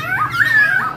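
Caged songbird mimicking a cat's meow, a single short rising-and-falling whine lasting under a second, clear and close against low background hum.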